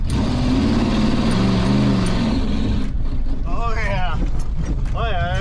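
Ramcharger truck with a 383 engine and open headers revving loud and steady as its tires spin on a wet lawn, the rumble continuous throughout with a high whining squeal rising over it in the second half.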